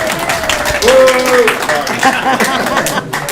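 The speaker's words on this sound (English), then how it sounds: "we could clap for the YouTube Live winners, folks" Audience clapping for YouTube Live winners at a union general membership meeting, a moderate scattered patter mixed with voices, music-like tones and chatter over the top.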